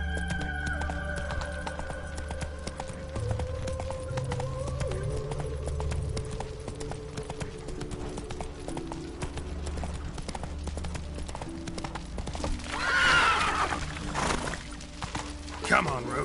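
A horse gallops in a video game with steady, rhythmic clip-clop hoofbeats, and a whinny rises near the end over game music and ambient effects.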